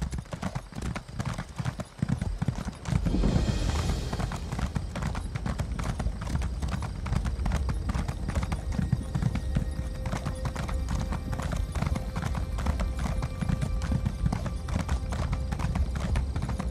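Horse hooves gallop in a steady, continuous clip-clop rhythm through a riding sequence in The Elder Scrolls Online, loud and close, with a brief whinny near the start and faint game ambience underneath.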